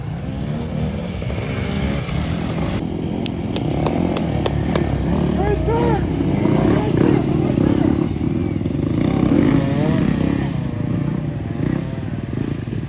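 An off-road motorcycle races past during a GNCC event at Talladega, its engine roaring steadily with a brief burst of sharp clattering ticks as it goes by. A voice can be heard over the noise.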